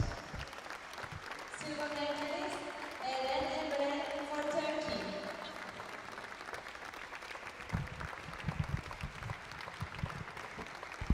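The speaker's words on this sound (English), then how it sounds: "the applause is for our central referee, who just finished her very last match in her career as EJU referee" Applause from the crowd at a veterans' European judo championship in Heraklion, honouring the central referee after her final match; steady clapping runs throughout, with voices talking over it for a stretch near the start.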